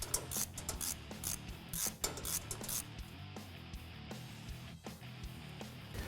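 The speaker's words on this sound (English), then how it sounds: "Remove the oil flange on the bottom of the turbo with a T45 Torx bit." Ratchet with a T45 Torx bit loosening the oil flange bolts beneath the turbo on a 3.5L F-150 twin-turbo engine, giving a run of close, fast metallic clicks with a few sharper knocks and no talking.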